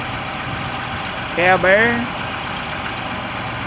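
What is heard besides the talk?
1991 John Deere 2955 tractor engine idling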